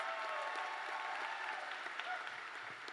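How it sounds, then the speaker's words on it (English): A crowd at a high school commencement claps steadily in continuous applause, a dense wash of hand claps from a sizeable audience with no break. "Give this principal a big round of applause."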